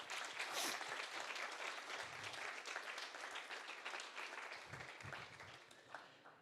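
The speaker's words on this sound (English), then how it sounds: "The first one is Francesco CORCOGLIONITI, a big applause for him." Audience applause at a Speck&Tech free-software talk event, steady dense clapping from a crowd filling the room, loud throughout and tapering slightly at the end.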